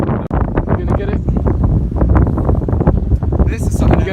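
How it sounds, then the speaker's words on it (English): Strong wind on an abandoned pier at night buffets the microphone with heavy low rumbling gusts, while someone speaks loudly over it throughout. "Yo, bro, it's windy."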